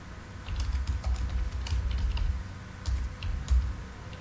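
A date is tapped out on a computer keyboard in quick, uneven runs of close, crisp key clicks with short pauses between bursts, no voices.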